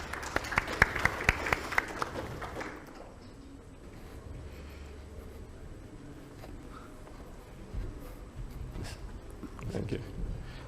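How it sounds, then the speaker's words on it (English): Brief clapping from a conference audience for a speaker at a banking panel event, a short burst of distinct claps at the start that quickly fades into quiet room tone with faint shuffling and movement. "Round of applause for him as well."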